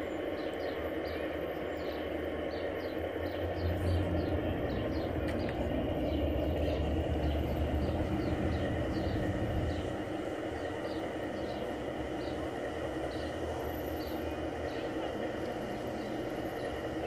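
A passenger train runs on a model railway village layout, its soft low rumble swelling midway through a steady background hum, with faint bird-like chirps and distant ambient noise throughout.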